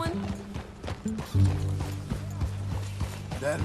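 Horse hooves clip-clopping in the Red Dead Redemption 2 video game, a steady rhythm of hoofbeats heard under game music and in-game character talk.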